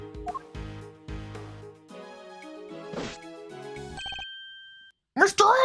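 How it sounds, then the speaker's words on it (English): A telephone rings in the video game Ace Attorney Investigations 2, heard as a run of bright electronic ring tones over the game's melodic background music, ending in a short burst of sound. "The moment the phone rang, I knew it was serious."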